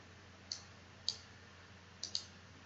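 Four crisp mouse clicks while working in STAAD Pro software, close and isolated over a quiet hum, the last two in quick succession.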